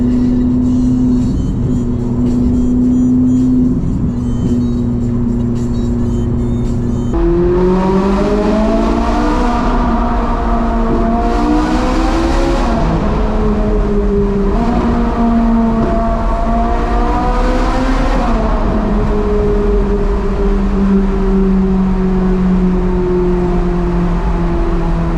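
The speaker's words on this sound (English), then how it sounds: "the glorious cacophony of the naturally aspirated V8 engine" A Ferrari's naturally aspirated V8 drones loudly through a tunnel, its pitch climbing and falling across several gear changes with a rich, layered roar that stays steady and close for the whole stretch.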